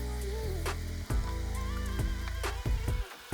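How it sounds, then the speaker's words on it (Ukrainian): Harsh sizzling and crackling close up as cut meat fries in oil and butter in a pan, with scraping pan sounds, loud and continuous. "Висипаємо порізане м'ясо."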